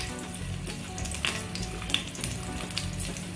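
Chopped green chillies and garlic sizzling in about two spoons of hot oil in a pan, a dense, even crackling hiss with a few sharper pops and light stirring, close and steady, with no voices.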